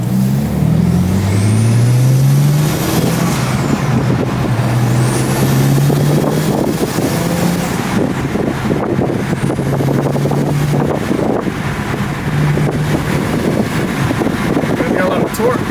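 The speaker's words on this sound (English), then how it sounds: "we just taking this thing for a spin, the 335" A BMW 335i with the N54 engine, just back from intake valve carbon cleaning, drives along with engine tones that climb in pitch through repeated rev sweeps over a rough wind and road rumble.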